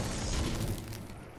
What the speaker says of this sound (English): Explosions in the background.